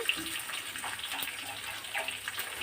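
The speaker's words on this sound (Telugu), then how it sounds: "నానబెట్టుకున్న చింతపండు రసం జాగ్రత్తగా పిండి తీసుకుందాము" Soaked tamarind squeezed by hand in water to extract juice for tamarind rice, a steady close wet sloshing and trickling with small splashes throughout, no talking.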